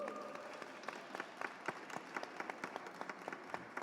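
Audience applause after a speaker's introduction at a talk, steady scattered clapping from a modest crowd, faint and somewhat distant, continuing evenly throughout.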